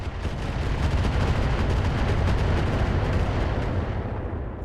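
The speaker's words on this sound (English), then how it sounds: "Our allies are shooting at that longbow." Continuous heavy rumbling barrage of artillery and weapons fire in the RogueTech battle game, loud and sustained, with overlapping booms and no gaps.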